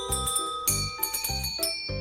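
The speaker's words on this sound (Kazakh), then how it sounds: "Бұл көк түсті қоңырау." A blue bell ringing in a repeated pattern of bright, clear tones, several short strikes in quick succession, close and alone.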